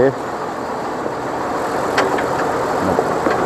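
A farm tractor engine idles close by in a steady, rumbling drone, and voices talk over it now and then.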